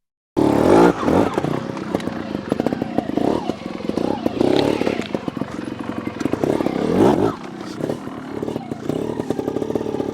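Sherco SHT 300 Factory trials motorcycle engine pulling in third gear on a 2022 bike, a loud, continuous rough two-stroke drone with surging throttle blips and clattering over terrain throughout.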